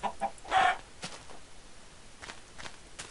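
Minecraft chicken clucking in the video game, a few short clucks near the start followed by faint scattered game sounds and quiet taps.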